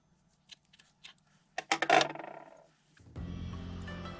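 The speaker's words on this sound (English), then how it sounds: "then we're going to cut our yarn" Scissors snipping through crochet yarn, a few faint clicks and then one louder close cut, followed by soft rustling of fabric.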